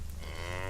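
Grass-fed cattle on a Missouri prairie pasture, a single close, loud, sustained low moo filling the whole moment.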